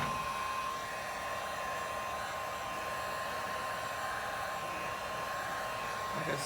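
A heat gun warms the plastic body cladding on a 1997-2001 Jeep Cherokee to lift it off, blowing a constant close airy roar with a faint steady whine and no talking.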